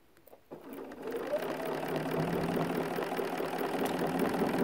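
A sewing machine stitches ruler work on a quilt block, a steady fast mechanical whir that starts after a couple of soft clicks and runs continuously, close and even, with no voices.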